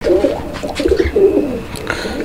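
Male pigeon cooing nearby in a loft or farm setting where pigeons are sold, with a series of low rolling coos that stand out clearly against a noisy background.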